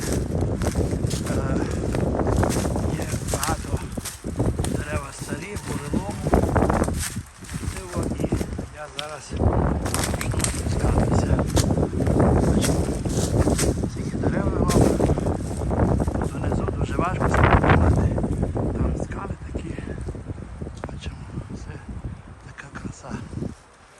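Strong wind buffets the microphone in heavy gusts on rocky ground in the Carpathian mountains near Brustury, Zakarpattia, rising and dropping throughout, with footsteps and occasional talking underneath.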